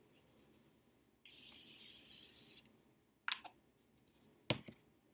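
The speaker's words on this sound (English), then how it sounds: "all we have to do is go in with our Morphe setting spray to set the face" A short, steady hiss of Morphe setting spray misted onto a face during a makeup routine, a single burst lasting about a second, close and fairly soft, followed by light handling clicks.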